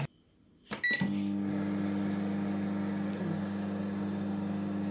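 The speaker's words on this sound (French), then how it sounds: "On va la mettre 15 minutes dans le micro-ondes." A microwave oven heating potatoes: a door thump and beep, then a steady, close, continuous hum that runs unbroken to the end, with no talking.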